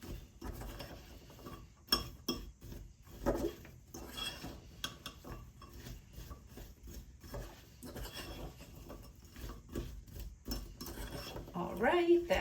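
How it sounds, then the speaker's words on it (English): A spoon works coconut sugar into batter in a mixing bowl, giving steady, rhythmic scraping and clinking against the bowl, close up with no talking. "that is going to get all stirred"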